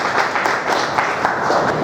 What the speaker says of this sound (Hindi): तालियों से इस्तकबाल करें तो बेहतर होगा।